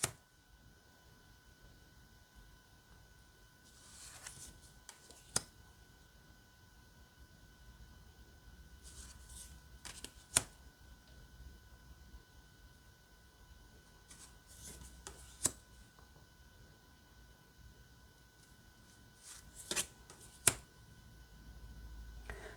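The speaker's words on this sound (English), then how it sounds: "I'm going to shuffle all of the cards together so you can get an accurate feel of like how it will shuffle for you." Norse oracle deck cards being shuffled together, heard as faint, brief papery riffles and soft clicks recurring every few seconds against a quiet background, with no talking.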